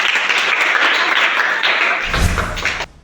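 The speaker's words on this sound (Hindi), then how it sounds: "ताली हो जाए इस गाने के लिए" An audience claps for a song, a close, loud burst of dense clapping that carries on for a few seconds, then a brief low thump before it cuts off abruptly.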